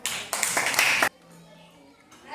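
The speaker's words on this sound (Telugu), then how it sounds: "very good claps" Children clapping together in a third-grade classroom, a loud burst of rhythmic claps lasting about a second, then the room drops to quiet murmur.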